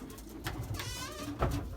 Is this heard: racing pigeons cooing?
yes